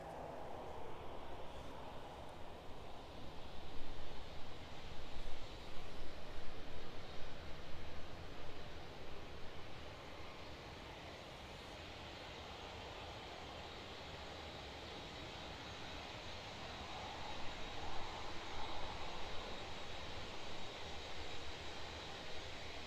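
An aircraft departs on the runway at East Midlands Airport, its engines giving a broad, steady roar that swells and eases over about twenty seconds, heard alone at moderate distance.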